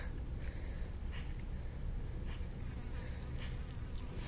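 Flies buzz softly around in a quiet outdoor setting, a faint continuous drone with a few brief closer passes.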